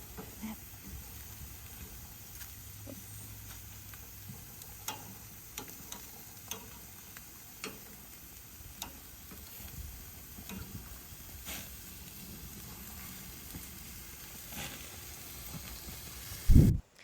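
Pork chops and fruit sizzle steadily in a hot pan, a close, continuous hiss with small crackles and the occasional scrape, then a sharp loud clatter near the end.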